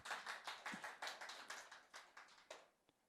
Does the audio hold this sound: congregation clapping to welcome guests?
yes